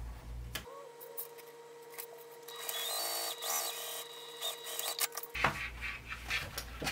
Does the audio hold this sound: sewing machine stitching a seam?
yes